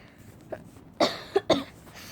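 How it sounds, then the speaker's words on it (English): Several short, sharp coughs close by, with one soft cough first and then three more in quick succession. "I'm sorry we are coughing."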